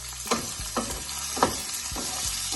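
Onions sautéing in a pan with garlic and ginger for chana masala, a steady close sizzle broken by several stirring scrapes at irregular intervals.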